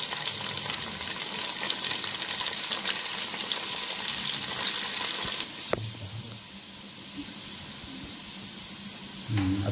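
Garlic and curry leaves fry in hot oil in a pan for a village chicken masala, giving a dense, steady sizzle and crackle that eases slightly partway through, with a few stirring knocks and no voices.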